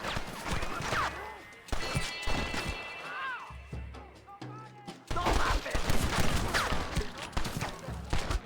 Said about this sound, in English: Let's actually use the shotgun on purpose this time.